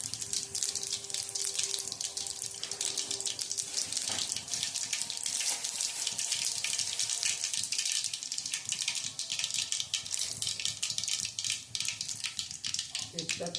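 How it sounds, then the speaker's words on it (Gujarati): Mustard seeds and cumin sizzle in hot oil for a Gujarati dal fry tempering, a dense, steady crackling hiss that runs through the whole stretch with a voice talking over it. "હવે આપણે એમાં નાખશું થોડીક રાઈ, થોડું જીરું,"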